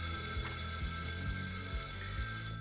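A phone rings with an incoming call, a steady electronic ringtone with high sustained tones over a repeating low pulsing pattern, close and continuous.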